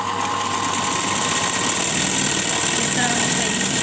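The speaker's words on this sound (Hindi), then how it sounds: "अब हम दूसरी सिलाई इसके साइड से लेंगे।" Sewing machine stitching the side seam of a kurti, a steady fast mechanical whirr that runs continuously and fairly loud throughout.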